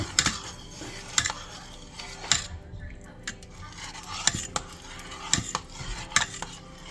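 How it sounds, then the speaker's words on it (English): A spoon stirs cream cheese into keto chicken chowder in an Instant Pot, producing a series of sharp metallic clinks and scrapes against the pot at irregular intervals, with quiet gaps between strokes. "You're just gonna give it a good stir."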